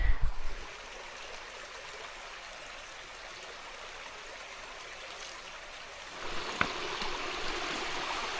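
A stream flows continuously with a steady, broad rushing and babbling, close by, swelling slightly brighter toward the end.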